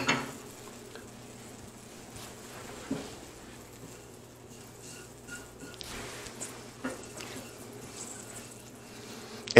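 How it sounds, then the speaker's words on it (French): A spice mix sizzles softly in hot refined coconut oil, a low steady crackle with occasional stirring scrapes and small pan knocks, moderately quiet and without talk. "quand c'est chaud, mettez 3/4 de cuillère à thé des épices que nous venons de mélanger dans"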